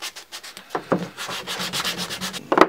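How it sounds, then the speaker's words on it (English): Sandpaper rubbed by hand over the edges of a wooden handle for a homemade gripper block, a series of close, short scratchy strokes in an uneven rhythm that ends with a louder final pass. "just round it off by hand with a bit of sandpaper"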